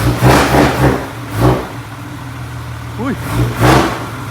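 A Thai parade truck engine revs in bursts, loud and close, with rough low rumbling swells between quieter idling stretches, while someone talks over it with a brief exclamation.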